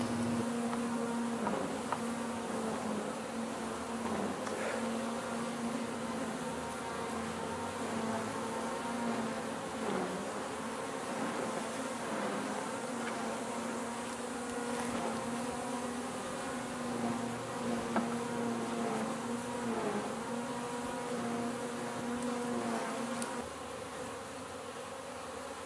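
Honeybees swarm over a brood frame with a dense, continuous buzzing hum, close and steady throughout, with a strong low drone and no voices.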